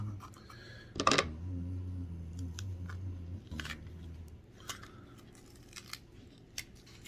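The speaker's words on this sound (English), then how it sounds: "So I'm going to cut one more, and then we're going to assemble these." Hellfire hot peppers being cut on a table, with a loud sharp snip near the start followed by quieter scattered clicks and small cuts, close and without talk.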